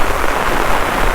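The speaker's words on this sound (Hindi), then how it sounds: "बारिश बहुत ही ज़्यादा हो रही है" Heavy rain pours steadily onto ripened paddy fields, a dense, loud, unbroken hiss of drops with no pauses.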